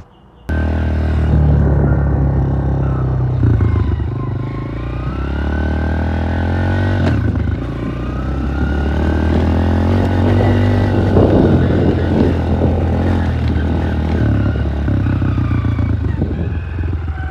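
Dirt bike ridden around, its engine close and loud throughout, revving and settling in a continuous rising and falling roar.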